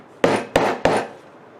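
Three sharp hammer taps strike the corner of a craft box through a layer of tissue, evenly spaced and close, each a crisp wooden knock with a short decay.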